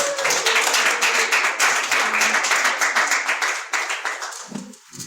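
A small audience applauding a colleague, a steady run of close, bright hand claps lasting several seconds before tapering off as a voice begins.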